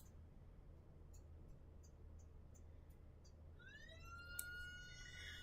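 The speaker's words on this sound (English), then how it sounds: "you definitely could hear some sirens behind me" A faint siren rises and wails in the distance near the end, following a quiet background hum with a few soft ticks, during a severe thunderstorm watch.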